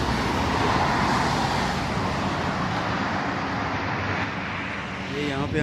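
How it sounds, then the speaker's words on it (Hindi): Heavy night traffic on Amarat road in Muscat, Oman: a dense, continuous wash of passing cars and larger vehicles, fairly loud and steady, easing slightly near the end, with a voice briefly audible at the close. "इस साइड पे ट्रैफिक बहुत ज़्यादा होती है"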